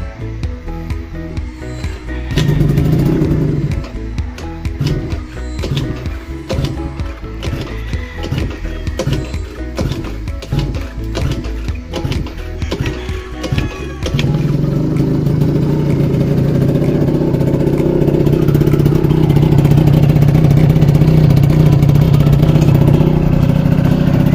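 A Yamaha Jog scooter engine running on premix fuel putters nearby, then rises into a louder, steadier drone for the second half, with no voices.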